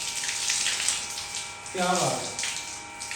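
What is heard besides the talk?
water sprayed while washing a motorbike at home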